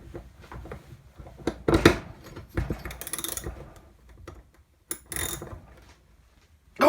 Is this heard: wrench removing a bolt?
yes